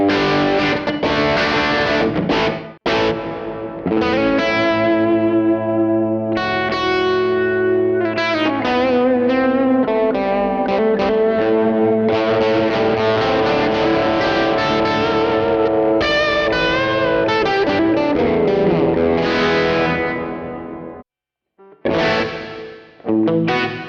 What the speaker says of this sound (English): Let's check out some of these reverbs.